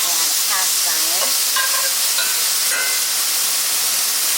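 Lamb chops in marinade hissing and sizzling loudly in a hot cast iron skillet, a dense steady fry close up, with faint scraping stirs near the start.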